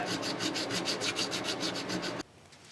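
A file rasps back and forth across the frets of an Ibanez RG-550M electric guitar during crowning, a close, rhythmic scraping of about a dozen strokes that stops abruptly near the end.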